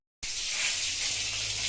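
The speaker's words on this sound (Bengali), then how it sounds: "এই যে মাছ ভাজা হয়ে গেছে, বাবা বানাচ্ছে।" Pieces of fish sizzle and fry in a hot pan at home, a continuous bright hiss that starts abruptly and stays loud and steady, with no voices.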